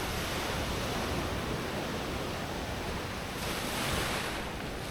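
Ocean waves break steadily on a Costa Rica beach, a continuous loud wash of surf with a gentle swell in intensity and some wind noise, with no voices.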